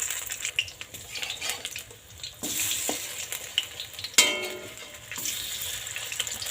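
Pointed gourd pakoras deep-frying in oil, a continuous bubbling sizzle with clinks of a metal utensil against the pan and a sharp scrape near the middle, no talk.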